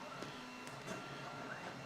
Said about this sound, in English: You can probably hear the 3D printer going over there.